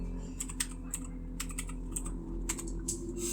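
Close, crisp keystrokes on a computer keyboard come in small uneven clusters over a steady low hum, entering text during setup of the game Until It's Undone, with no speech.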